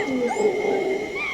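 A troop of black monkeys in a forest, a brief, loud burst of overlapping, wavering barks and whining calls close by.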